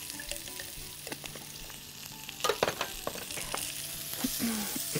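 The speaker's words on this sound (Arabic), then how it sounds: "هسيبه يدبل كده ويبتدي يتشوح" Chopped onion sautéing in oil with a pinch of salt in a pan: a steady close sizzle throughout, with scattered clinks and scrapes of stirring and a louder burst of crackling midway.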